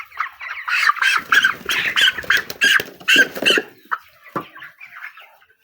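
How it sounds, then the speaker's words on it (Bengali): Broiler chicken lifted onto a weighing scale squawks loudly and repeatedly in agitated bursts, tapering off into softer clucks toward the end. "এবারে আমরা একটি মুরগি তুলে দিয়ে দেখব।"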